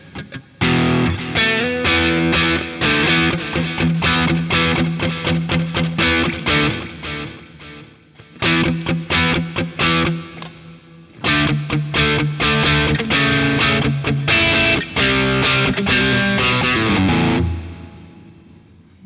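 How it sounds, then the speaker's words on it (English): Electric guitar played through a Boss Katana 50 MK2 amplifier on its crunch channel, loud driven chords and riffs in bursts with two short pauses, ringing out at the end, no talking. "Moving on to the crunch channel now."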